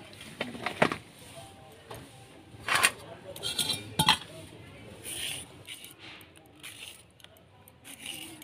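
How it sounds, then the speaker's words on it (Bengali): Knife work on fresh peas, potato, carrot and beetroot for a vegetable chop, with irregular close taps and clinks of blade and utensils against a board and dishes, spaced unevenly with brief quiet gaps. "তো আমি সবজিগুলো একটু কেটে নিই"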